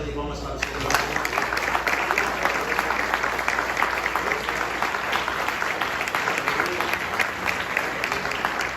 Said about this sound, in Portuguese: Posso ouvir uma linda salva de palmas para o Senhor?